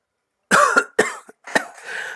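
A person coughs several times up close in an otherwise quiet room, a quick cluster of harsh coughs followed by a rougher, throat-clearing rasp.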